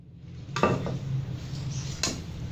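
Chopped pumpkin pieces are tipped into a pressure cooker, giving two quick, fairly quiet clattering knocks against the metal pot about a second and a half apart.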